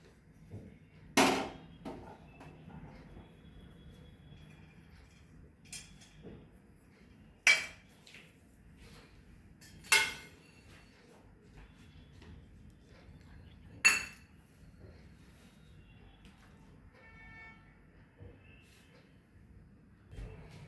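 Metal utensils clink and knock sharply a handful of times, spaced several seconds apart, against a pan where almonds fry in ghee for banana halwa, with a faint kitchen hum between the strikes.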